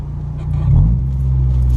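A car engine in a video game idles as a low, steady hum while off-roading, with a brief louder surge and rumble in the middle before it settles back to a continuous drone.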